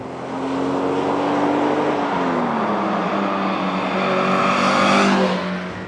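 A Mazda MX5 with its 1.6 engine pulls along while driving, the engine note rising and falling through revs close and loud, a smooth continuous drone that climbs again toward the end; no one speaks.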